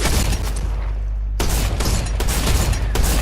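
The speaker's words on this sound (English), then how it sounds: "So for some reason my shotgun pellets are not hitting him through the webbing" Shotgun blasts in Fortnite, loud sharp bursts that start abruptly after a brief lull, followed by several more rapid shots and impacts.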